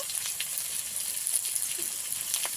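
Ground coriander paste and spices sizzle in hot oil for a live tilapia curry with potato and lentil dumplings, a soft, steady frying hiss with small crackles throughout and no talking.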